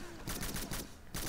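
Gunfire in a video game sounds as a rapid burst of shots, about four or five loud cracks in quick succession, dense and close.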